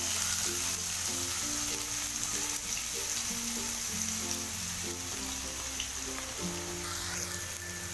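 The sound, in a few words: onions frying in oil for brain masala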